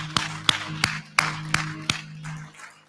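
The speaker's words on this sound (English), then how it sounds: "can you just clap your hands?" Congregation members at an addiction-recovery ministry service clap their hands in agreement after a prayer. About seven sharp, evenly spaced claps ring out in a steady rhythm in a quiet room, then fade into a soft murmur.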